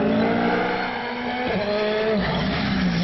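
A race car on a time-trial track runs at full throttle, its engine droning steadily with pitch shifts as it spins out and recovers, loud and close with no talking.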